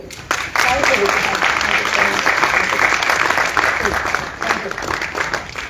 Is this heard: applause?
yes